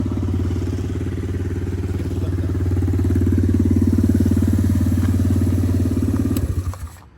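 Motorcycle engine running close and loud with a steady, throbbing low idle that holds for several seconds and then cuts off abruptly near the end.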